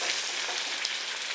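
Puri fries in hot oil, a dense, even sizzle that stays steady and close throughout the short stretch with no voices.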